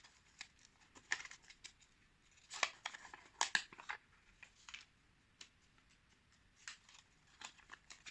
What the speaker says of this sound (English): In next step, also cut off the point of the paper